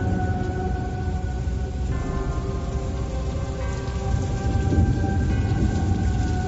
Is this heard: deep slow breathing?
no